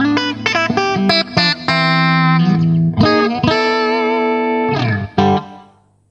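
A clean electric guitar through a Boss GT-3 plays a short run of plucked notes and sustained chords, bathed in a smooth plate reverb tail that fades out at the end.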